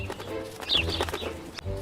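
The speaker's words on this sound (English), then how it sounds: "Some birds flew over to Peter." Birds flying over in a children's story scene, with a brief flutter of flapping wings and soft cooing calls, moderately close and without any talking.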